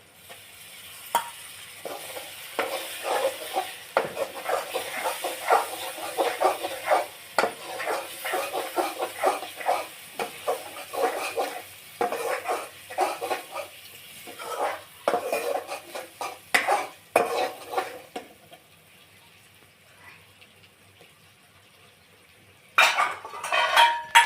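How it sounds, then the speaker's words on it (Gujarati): Tomatoes are added to frying onions in a pan for a Kathiyawadi village-style curry, with a metal spoon repeatedly scraping and clattering against the pan over a low sizzle. The stirring pauses briefly before one last burst of clanks. "આ ડુંગળી હવે પાકવા આવી એટલે હવે ટમેટા નાખી દઈએ એમાં"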